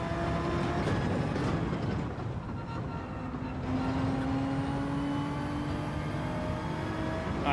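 Race car engine in Gran Turismo 7, a loud continuous drone whose pitch drops and shifts as the driver downshifts, steady throughout with no voices.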